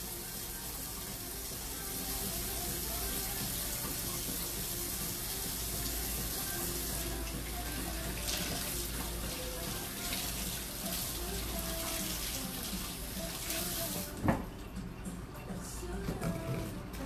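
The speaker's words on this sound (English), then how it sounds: "Putting soap on my hands." Soapy hands are washed under a running tap, giving a steady, close rush of water splashing into a sink throughout, with a brief louder knock near the end and no clear talk.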